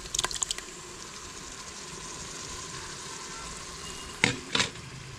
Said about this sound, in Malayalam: തൈര് ചേർത്തിട്ട് നന്നായിട്ട് മിക്സ് ചെയ്ത് കൊടുക്കണം കേട്ടോ.